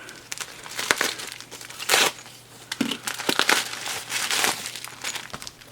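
A knife cuts open a taped plastic mailbag package, giving close, loud crinkling, tearing and crushing bursts of plastic and tape in irregular pulls.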